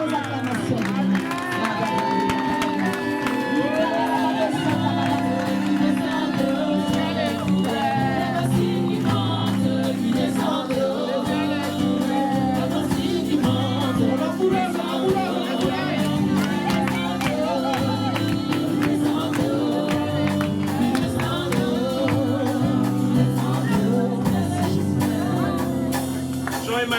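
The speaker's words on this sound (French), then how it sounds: "Sous vos acclamations." A church congregation at a thanksgiving baptism service fills the space with sustained cheering and acclaim: a dense, loud wash of many voices and shouts, with some clapping mixed in, running continuously throughout.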